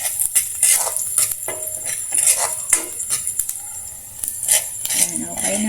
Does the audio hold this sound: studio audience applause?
no